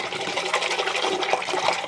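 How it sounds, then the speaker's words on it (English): Aquarium filter tubes swished around in tank water, making a continuous close-up sloshing and gurgling with rhythmic surges as the tubes are moved back and forth. "I'm just going to whoosh them around the water"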